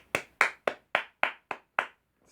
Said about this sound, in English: Round of applause for Mark Henry in that retirement promo